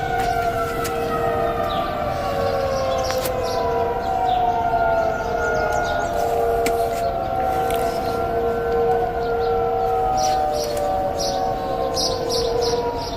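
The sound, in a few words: tornado siren wailing in a neighborhood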